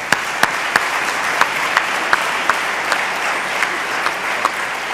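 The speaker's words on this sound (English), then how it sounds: "A big round of applause for them." Steady applause from a plenary conference audience honoring long-serving members, a continuous wash of clapping punctuated by regular sharp, louder claps close by.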